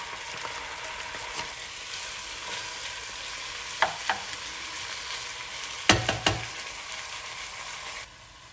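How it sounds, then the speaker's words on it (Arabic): Meat frying in a pan for a quick couscous, with onion going in: a steady, even sizzle with a few sharp clinks and knocks near the middle, then a sudden drop in level at the end. "قليت شويه اللحم غادي نزيد البصل"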